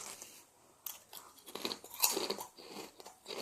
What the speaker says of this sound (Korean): 이제 먹어보도록 하겠습니다.